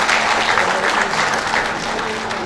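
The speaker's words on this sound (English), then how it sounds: "let us give a big clap to the Department of Physics organizing such a wonderful event" Loud, full audience applause at a physics conference inauguration, a dense wash of clapping from many hands throughout the short stretch.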